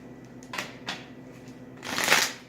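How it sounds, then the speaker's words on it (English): Quick riffle shuffles of a deck of cards: a few soft flutters followed by a longer, louder burst, close up in a quiet room. "I'm just going to do a couple quick shuffles and a quick cut"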